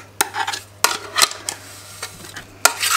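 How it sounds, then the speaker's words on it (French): Sandy biscuit crust dough being pressed into the bottom of a cake tin lined with baking paper, giving soft scrapes and several sharp clinks of a spoon against the tin over a low steady hum. "on va venir presser la pâte dans le fond du moule"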